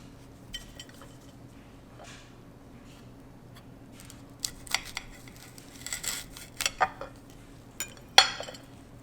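A knife cutting open a KS Chocolate Linzo chocolate pepper pod gives quiet, scattered clicks and crisp snaps that grow a little busier toward the end.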